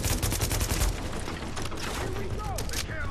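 Dense bursts of automatic gunfire in the video game The Division, loud and rapid at first and then continuing more sparsely under a firefight.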